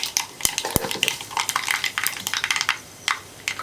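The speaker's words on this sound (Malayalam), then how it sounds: "കടുക് പൊട്ടി വരുമ്പോൾ 8-10 ഉലുവ ചേർക്കുക." Mustard seeds and fenugreek spluttering in hot coconut oil for a rasam tempering: a steady stream of sharp, close pops and crackles, with a couple of louder metallic clicks near the start and no voices.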